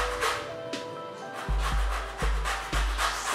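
A lemon's peel is scraped on a grater, giving repeated rough rasping strokes in a steady rhythm. The strokes are close and moderately loud, with no talk.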